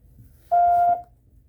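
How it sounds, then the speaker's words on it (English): A single clean electronic beep, steady pitch, lasting about half a second against near silence. "Please leave a message after the tone."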